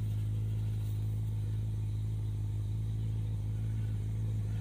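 A 1964 Plymouth wagon engine idles steadily, its throttle not hooked up, as the car rolls out in gear: a constant low, loud rumble with a strong droning hum and no voices.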